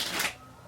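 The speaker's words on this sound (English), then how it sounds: "So you shuffle the cards," A deck of playing cards is shuffled in one quick, crisp riffle lasting under half a second, close and fairly quiet, then fades to near silence.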